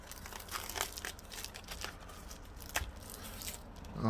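Cardboard and plastic packaging of a Vortex Venom 3 MOA red dot sight being cut and pulled open, a close run of crinkling, tearing and crunching rustles without talk.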